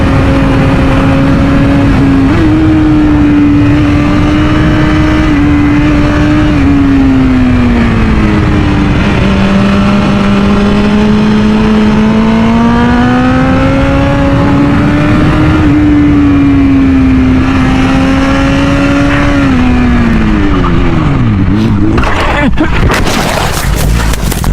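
A motorcycle ridden on the road in Brazil, its engine droning loud and steady with rising and falling pitch as the rider shifts and throttles, ending in a brief burst of harsh noise; a voice talks over it.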